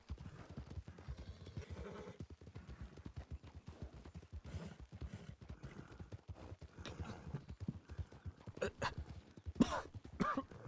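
Horses gallop in Red Dead Redemption 2 on a WildRP roleplay server, with a steady run of close, rhythmic hoofbeats, a whinny and occasional voices mixed in.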